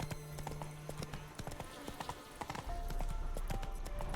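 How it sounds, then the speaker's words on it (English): A horse's hooves clip-clop at a trot in The Witcher 3 video game, rhythmic and moderately close, with a low hum of game ambience and other effects underneath. "Whoa there, Roach."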